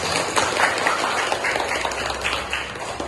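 Dense, steady applause from a classroom of students fills the room, a continuous close patter of many hands clapping at once without talk.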